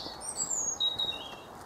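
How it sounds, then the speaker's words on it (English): High, thin bird whistles and chirps sound faintly over a steady outdoor hiss, a couple of short calls in quick succession. "The birds are in full voice."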